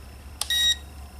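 A mini drone's remote controller gives a single short electronic beep while pairing, preceded by a faint click, loud and alone in a quiet room.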